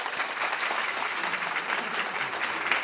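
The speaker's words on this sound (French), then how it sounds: "Par applaudissement, qui pense que Margot pourrait être le date idéal pour notre ami Maxime?" A studio audience claps in a dense, sustained burst, with many hands close together at an even level for the whole stretch and no break.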